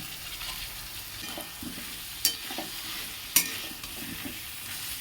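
Small shrimp and potatoes sizzle in a pan, a low, even frying hiss under scraping stirs, with two sharper knocks of the utensil against the pan.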